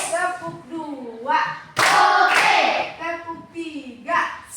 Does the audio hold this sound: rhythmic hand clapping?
yes